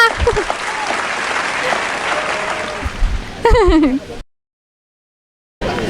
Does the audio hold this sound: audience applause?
yes